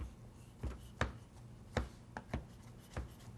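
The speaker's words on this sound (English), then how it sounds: "I think that's a good coarse chop." A knife chops fresh shiitake mushrooms on a board into a coarse chop, about seven sharp, quiet thuds at an uneven pace, alone without talk.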